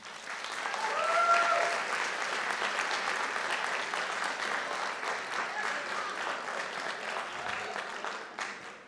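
An audience at a school board meeting applauds, a dense, continuous wash of many hands clapping at moderate distance, swelling early and holding steady for several seconds before tapering at the end.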